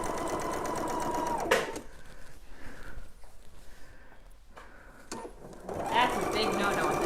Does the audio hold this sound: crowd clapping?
no